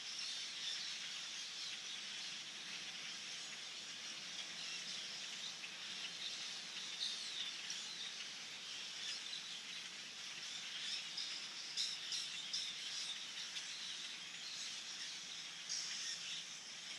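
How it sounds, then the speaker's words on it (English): Hundreds of migrating blackbirds with bluish wings call from the trees, a thick, continuous chorus of high chirps and chatter heard from some distance, steady throughout with no talking. "They're blackbirds with like bluish wings."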